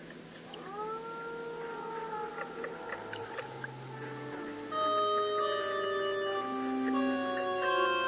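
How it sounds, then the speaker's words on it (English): Several long, mournful wolf howls rise and hold in overlapping layers in Algonquin Park, a chorus swelling louder toward the end, carrying across open distance with no talking. "One of the most iconic calls and probably one of the most sought-after experiences in Algonquin Park is hearing the wolves howl."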